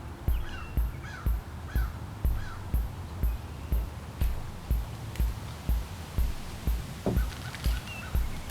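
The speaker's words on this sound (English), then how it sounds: "The crows and ravens back there are just going crazy." Crows and ravens caw repeatedly in the background, loud and insistent, with steady rhythmic rustling or footstep-like thumps throughout.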